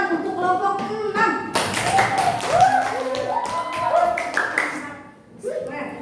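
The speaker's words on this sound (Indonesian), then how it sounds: "Tepuk tangan untuk kelompok 6." Classroom clapping for a student group after a presentation in an Indonesian elementary class, a short burst of hand claps and taps with children's and teacher's voices over it, fading near the end.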